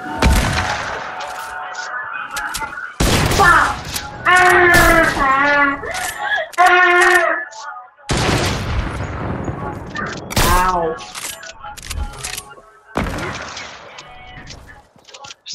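Sniper rifle shots crack out in Fortnite, several sharp loud reports spaced a few seconds apart, mixed with excited voices talking and shouting close by.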